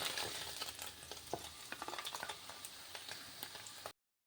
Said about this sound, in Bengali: আমি সবগুলি পনির উল্টিয়ে দিচ্ছি হালকা করে ভেজে এবার উঠিয়ে নেব